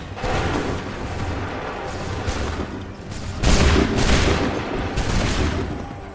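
Musket volleys in Assassin's Creed III, loud dense crackling bursts of gunfire rolling in repeated waves with booming rumble, close and intense, no talk.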